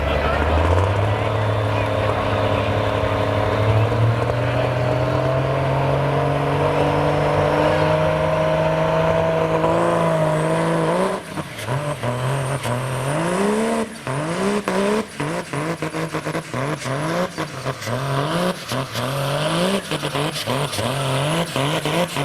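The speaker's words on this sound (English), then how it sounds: "We're going to see some hot farm tractors here" A modified farm tractor roars at a tractor pull, its engine note climbing steadily as it launches down the track, then turning into choppy, surging revs. The engine is loud and close, with crowd noise or commentary underneath.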